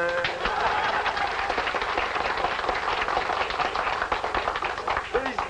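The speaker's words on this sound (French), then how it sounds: "il y a un monsieur qui applaudit d'une façon vraiment pas ordinaire" At 1950s town festivities in Saint-Joseph-de-Beauce, a man claps in an unusual way: a run of sharp, uneven claps and taps, close and fairly loud, with crowd murmur beneath.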